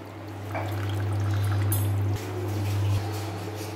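Water dribbles and trickles as freshly curdled paneer, made with vinegar for rasgulla, is squeezed in a cloth. A steady low hum runs underneath, with no talking.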